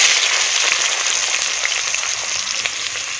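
Onions hit hot oil in a kadai, giving a loud, continuous close sizzle and crackle with no talk over it.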